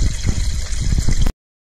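Steady rushing and gurgling of water flowing through a new Samsung refrigerator water filter, with air sputtering in it, running continuously and then cutting off abruptly.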